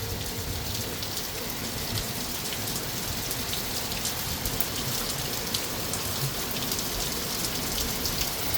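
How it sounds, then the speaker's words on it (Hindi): Heavy monsoon rain pours down in Mussoorie, a dense, loud, unbroken hiss of drops hitting surfaces that stays steady throughout. "ये देखो कितनी तेज बारिश हो रही है"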